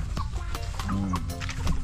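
A rooster gives a short, low cluck amid steady background noise and faint rustling, close by but not very loud.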